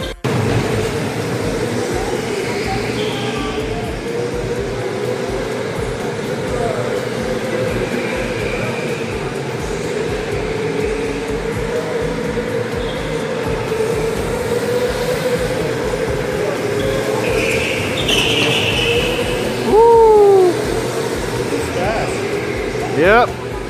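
Electric go-karts racing at a K1 Speed indoor track, a steady loud whine and rumble of the kart under way, with a few brief sharper squeals and bumps along the run.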